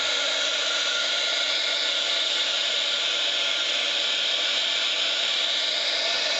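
A heat tool blasts steadily while melting embossing powder for a stamped chocolate holder, a loud continuous airy whoosh like a hair dryer, close and alone with no talking.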